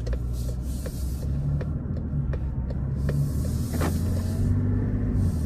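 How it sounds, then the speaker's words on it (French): A car driving along a road, with a steady low engine and tyre rumble, close and continuous, some faint clicks and rattles over it, and no voices. "On va aller rouler avec la voiture."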